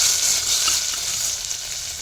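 A small amount of ginger paste frying in oil for coconut rice, producing a steady, close, loud hiss and sizzle that holds evenly throughout without talking.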